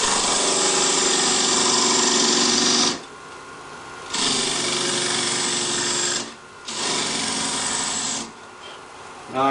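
A half-inch carbide insert tool takes full-width cuts into a wooden bowl spinning on a lathe at about 2,000 RPM, making three long, loud scraping stretches broken by brief quieter gaps, close up.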